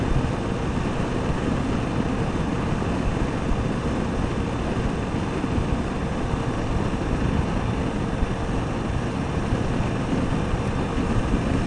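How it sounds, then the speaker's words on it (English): A Kawasaki motorcycle engine lugs in sixth gear at about 80, around 2,800 RPM, a steady low drone mixed with wind rush that continues unbroken throughout. "Now when I give it gas, it lugs a little bit when you give it the gas because it's in 6th gear"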